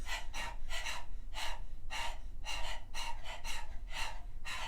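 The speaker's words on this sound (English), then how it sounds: "open your mouth, stick out the tongue, and begin to pant rhythmically like a dog" Rhythmic open-mouthed panting like a dog, tongue out, during a yoga breathing exercise, quick breathy bursts repeating about twice a second, steady and close, with no talking.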